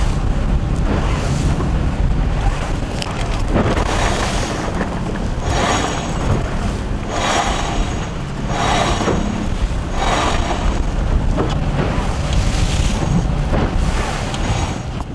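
Water rushes and surges continuously around a sailboat's hull under sail with the engine off, with loud wind buffeting the microphone and rhythmic swells of spray.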